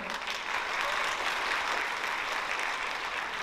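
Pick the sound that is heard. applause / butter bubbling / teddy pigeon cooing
applause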